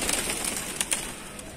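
A pigeon coos on a rooftop, giving soft, low, repeated calls at close range against faint background noise.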